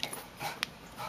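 A puppy gives a few short, thin whimpers and a small yip, faint and close in a quiet room, with no one talking.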